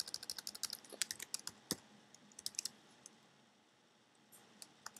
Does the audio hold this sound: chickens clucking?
no